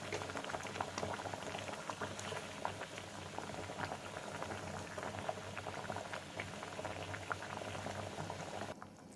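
Village-style fish curry with fish pieces simmering on a low flame, heard as continuous close bubbling and soft popping of liquid in the pot, steady and moderately quiet from start to finish with no talk.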